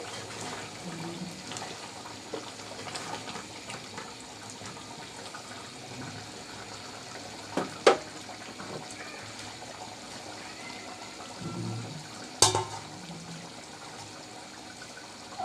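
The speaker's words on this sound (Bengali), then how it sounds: "অল্প করে পানি দিয়ে দিচ্ছি আলুটা সিদ্ধ হওয়ার জন্য" Water is poured in small amounts into a pot of beef with halved potatoes, making a faint, steady trickle with a couple of sharp clinks along the way.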